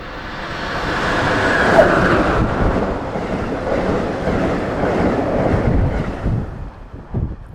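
An Amtrak train on the Keystone Corridor in winter passes close by with a loud, broad rumbling roar that swells and slowly fades, buffeted by wind noise on the microphone.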